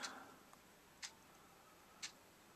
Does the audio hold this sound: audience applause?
no